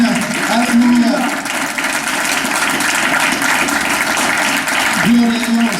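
Steady applause fills the room, clapping from a sizable church congregation during a morning service, with a voice calling out briefly over it.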